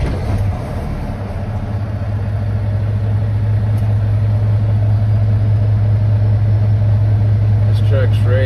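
The diesel engine of a 2020 International LT truck turns over and settles into a loud, steady low idle, a deep continuous rumble with a constant hum that holds for the rest of the clip.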